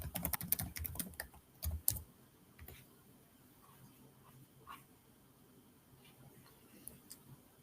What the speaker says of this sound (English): I will type you my email address in case.